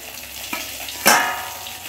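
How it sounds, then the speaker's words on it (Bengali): Fish pieces frying one at a time in a little oil in a home kitchen, a soft steady sizzle with a tap and a brief louder hiss burst as food meets the pan, no voices. "কম তেলে মাছটা যদি ভাজা যায় তাই একটা একটা করে এক পিস করে মাছ ভাজছি"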